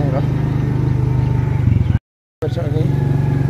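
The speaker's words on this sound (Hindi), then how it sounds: "यहाँ से मैं बाइक ऊपर चढ़ाऊंगा।" A motorcycle engine chugs steadily up a slope in a park, close and fairly loud with a rhythmic pulse, briefly cut off by a gap before resuming.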